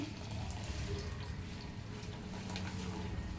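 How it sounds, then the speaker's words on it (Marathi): Water is poured into a pan of paneer and peas curry, a faint, steady trickling wash that continues evenly throughout. "पाणी टाकूयात गार पाणी टाकायचं नाही"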